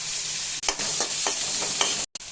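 Onions and cumin frying in hot oil in a kadai, a steady sizzle broken by a handful of scraping stirs, close and alone with no talk.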